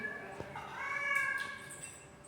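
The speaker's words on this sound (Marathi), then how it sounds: "आणि इथे छोटंसं मांजर पण आहे." A small cat at a Vishnu temple gives a short, faint meow followed by a longer drawn-out one, heard close in a quiet setting.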